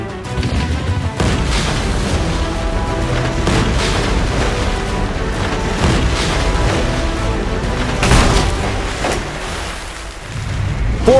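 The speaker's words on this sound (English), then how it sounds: "Fire the cannons!" Loud, repeated booming blasts of cannon fire roll over a dense, continuous rumble, with several sharp hits spaced a second or two apart, during a pirate attack on a LEGO boat.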